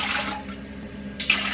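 Water running into a pot for a brine in a home kitchen, a soft steady splashing pour that ends in a brief louder slosh, with no voices.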